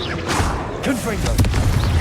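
Confringo fire spell blasts during combat in the video game Hogwarts Legacy, loud booming impacts over a dense, noisy game mix, with a voice shouting spell names over the action.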